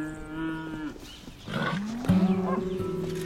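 Cattle on a working livestock farm in New Caledonia moo in several overlapping calls, one long low moo followed by louder, closer bellows against rustling outdoor background, with no talking.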